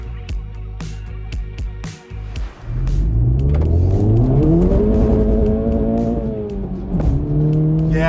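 A 2024 Acura Integra Type S, front-wheel drive, pulls away on a Pennsylvania road: a brief lull and gear change, then a loud, close engine surge climbing steadily in pitch through the revs, with no talking.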